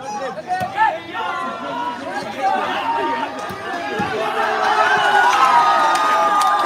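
A crowd at the Dubai Open semi-final between Toronto Jafferys and Team India keeps up a steady, swelling roar of raised voices and chanting that grows louder toward the end, with no single voice standing out.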